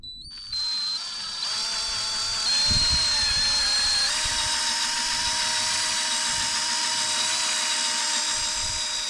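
A power polisher buffing Turtle Wax Hybrid Pro all-in-one polishing compound on a gloss black Audi S4 emblem area, a steady high whine that spins up at the start and holds loud and even.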